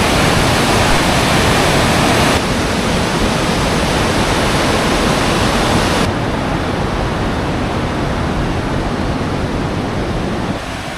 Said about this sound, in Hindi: देखो ज़रा पानी का फ्लो देखो